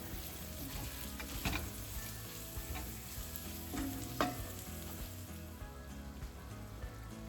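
Homemade gravy with flour stirred in a frying pan, a steady close sizzle with a few scraping spoon strokes and light clinks scattered across it.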